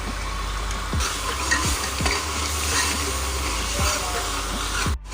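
Masala with turmeric sizzles and fries in ghee in a pan, a steady loud crackle with periodic scraping strokes of a stirring spoon.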